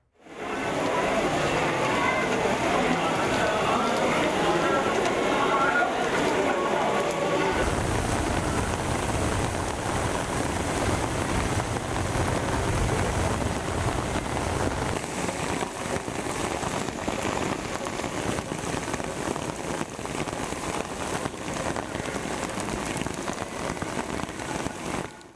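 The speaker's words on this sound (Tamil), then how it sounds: "காலை முதல் பெய்து வரும் கனமழையால் சாலைகளில் மழைநீர்" Heavy rain pours down steadily and loudly in Thiruchendur while rainwater floods along the roads, a dense unbroken hiss of drops spattering on surfaces and running water, lasting throughout with no voices.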